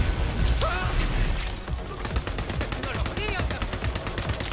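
Rapid automatic gunfire in the video game Borderlands 3, bursts of closely spaced loud shots that grow into a steady rattling stream, with someone talking in Spanish over the shooting.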